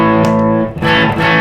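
An electric guitar with its pickup switched to a coil-tap setting rings out loud and sustained through an effects chain with distortion, chords blending into one another with a brief dip midway.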